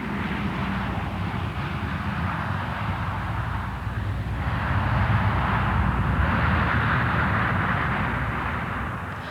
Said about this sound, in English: The Meteorological Office in Britain makes regular flights with its special weather plane